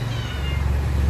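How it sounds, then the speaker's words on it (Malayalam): A kitten meows once, close by and fairly loud, over a low background rumble. "ഒരു പൂച്ചക്കുട്ടി ഉണ്ട് കേട്ടോ"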